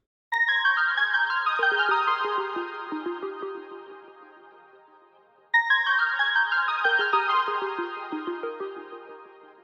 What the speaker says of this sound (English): The next thing we're checking out here is the synth melody.